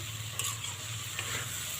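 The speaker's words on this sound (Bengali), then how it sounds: "তো চলুন ততক্ষণ এটা ভাজা হোক" Soft continuous sizzling of cabbage frying in a pan on lowered heat, with a low steady hum underneath and a couple of faint scraping clicks; no voices.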